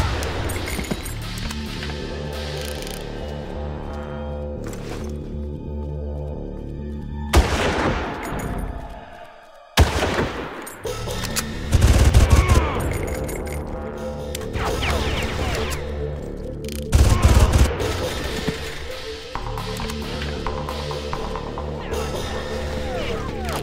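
Gunfire in the shooter game Far Cry on PC, with sustained bursts of shots and crashing impacts over a noisy battle soundscape, broken by short lulls and louder flare-ups, close and loud, with occasional speech.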